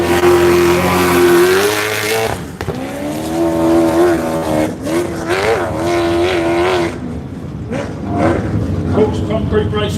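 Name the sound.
race car number 10 launching off the start line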